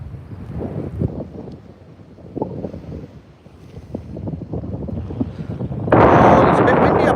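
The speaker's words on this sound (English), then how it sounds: "it's a bit windy up here, guys." Wind gusting outdoors on a hilltop by disused train tracks, buffeting the microphone in uneven rumbling waves that surge into a loud roaring blast near the end.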